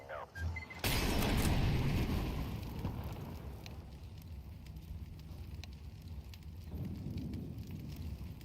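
An incendiary grenade thrown in Counter-Strike 2 bursts into a loud, steady roaring fire that crackles and hisses for several seconds after a sharp ignition, with a brief faint voice at the start.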